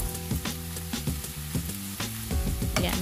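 Leftover rice is stir-fried in a pan with salted yellow beans and vegetables, a close, continuous sizzle broken by repeated stirring scrapes, with no one speaking.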